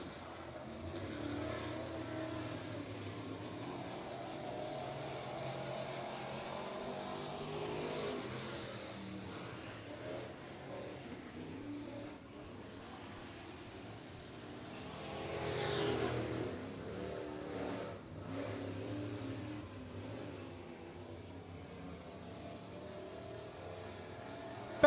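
Race car out on the track during a hot lap session at Sugar Creek Raceway's Spring Nationals, its engine droning at a distance and swelling twice as it passes, with a steady low rumble underneath throughout.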